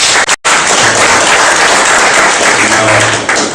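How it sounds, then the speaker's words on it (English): An audience at a ceremonial launch event breaks into loud, continuous applause that stays dense and close, with a brief drop near the start. "we should put a warm round of applause"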